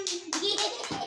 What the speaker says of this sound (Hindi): अपनी शेम शेम पे क्लैपिंग कर रहा है।